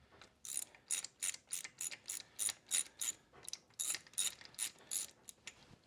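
A socket wrench breaks spark plugs free on a Kawasaki Ninja 250 with a 5/8 spark plug socket, making rapid, evenly spaced ratcheting clicks in a steady series, close and fairly quiet, with no talk.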